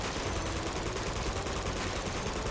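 Rapid, dense gunfire from Uncharted 2 multiplayer rattles continuously and loudly throughout, bursts of shots overlapping with no pauses.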